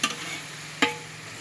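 Chicken, about eleven kilos, is stirred and mixed in a large cooking pot for an Iftar feast, a soft constant sizzle broken by two brief scraping stirs, one at the start and one near the middle.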